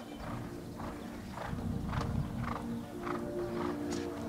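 Horse hooves thud on the ground during show jumping at a modern pentathlon world championship in Berlin, a regular clip-clop of about eight strides over a steady crowd and arena rumble.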